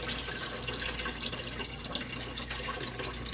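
Wild lettuce liquid, with ground leaves and stems, poured from a heavy crock pot into another container, giving a steady close splashing, trickling pour that runs for the whole stretch.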